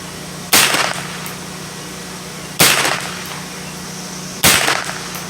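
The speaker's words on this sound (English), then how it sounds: "I'm gonna take 3 shots and see what kind of groove we get." Three sharp gunshots from a Smith & Wesson M&P 15-22 rifle at an outdoor range, spaced roughly two seconds apart. Each is a loud, close crack with a short tail over steady background hum.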